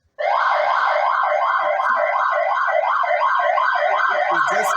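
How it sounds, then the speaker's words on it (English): A workshop alarm siren set off by a door sensor wails loud and close, a steady rising-and-falling electronic tone that starts abruptly and keeps cycling without pause. "I had to put the same sensor connected with a siren."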